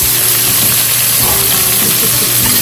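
Garlic and onion sauté in a pan for ginataang octopus, a loud, constant close-up sizzle with faint stirring beneath it.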